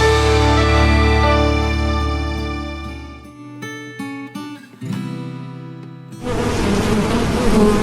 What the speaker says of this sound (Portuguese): No meio desse zumbido, uma coisa é certa, a quantidade de abelhas é surpreendente